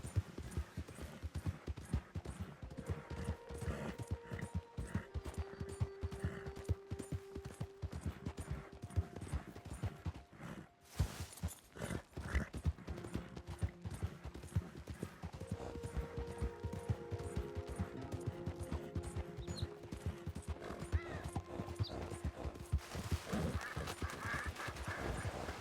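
Horse hooves clip-clop steadily throughout a ride in a video game, a continuous rhythmic trotting under game music and ambient effects, with no talking.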